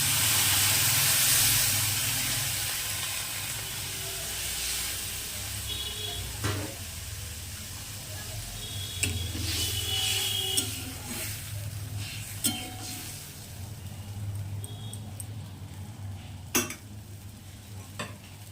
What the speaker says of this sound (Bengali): এখানে আমি একটু জল দিয়ে দেবো।